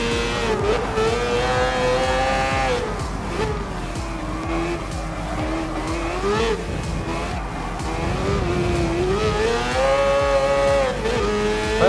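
Race cars including a Mercedes C9, a Jaguar XJR9 and a Mazda 787B rotary roar through a Gran Turismo Sport race, with engines rising and falling in pitch, tires squealing and loud, continuous whine under faint commentary.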